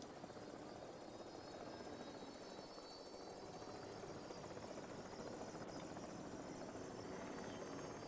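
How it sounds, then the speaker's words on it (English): Helicopter rotor and turbine whine from Jurassic World Evolution 3, a steady, fairly distant drone with constant whirring and no voices over it. "Like a helicopter powering up?"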